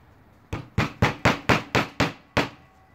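Nails are hammered into a wallaby skin to stretch it for bush tanning, eight sharp, evenly spaced knocks in quick succession, close and loud against quiet outdoor ambience.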